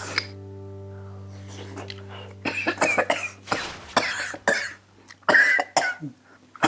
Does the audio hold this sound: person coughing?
yes